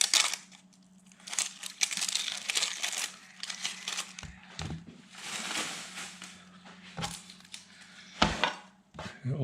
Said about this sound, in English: we'll cut off the root, and we'll do a quick peel.